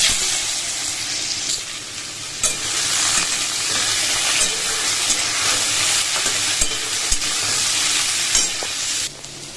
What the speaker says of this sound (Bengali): চাল কুমড়োগুলো একটু ভেজে নিয়েছি